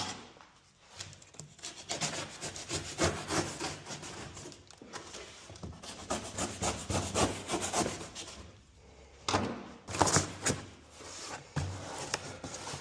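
A cardboard box has its edges trimmed down while being cut to size for shipping used car parts, giving close, rough scraping and sawing strokes in uneven bursts with short pauses, and no talking.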